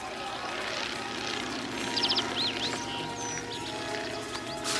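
A steady propeller-plane drone passes overhead, with birds chirping faintly on top and some low background noise.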